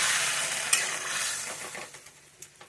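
Water poured onto spices frying in oil, producing a loud burst of hissing sizzle that gradually dies down, with a sharp clink early on and a few soft stirring taps toward the end.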